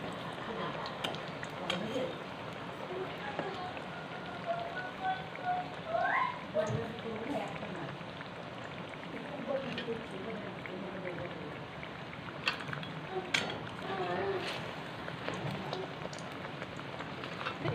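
Malpua, sweet Bengali pancakes, frying in hot oil, giving a steady soft crackling sizzle throughout with light clinks and a voice talking over it.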